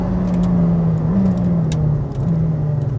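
A McLaren Senna supercar on the move, its engine a steady loud low drone with slight pitch shifts as it holds speed, heard close from inside, with faint ticking and rattles and no talk.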